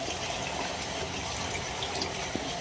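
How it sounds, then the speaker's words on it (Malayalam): Jaggery syrup is poured into a dish in a short, continuous liquid stream, moderately soft and close, with no talking. "അപ്പൊ ശർക്കര പാനിയും കൂടെ നമുക്കൊന്ന് ഒഴിച്ചു കൊടുക്കാവേ"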